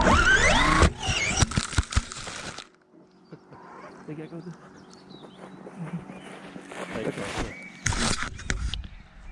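A Maverick Strada XT RC car with a GoPro mounted drives off a table: a loud burst of motor whine and clatter at first, then a quieter rumbling stretch with scattered knocks and a brief louder flare near the end.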